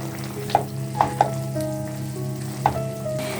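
Green chillies and fried onion crisps go into a frying chicken roast. A continuous close sizzle is punctuated by several sharp spatula clacks against the pan.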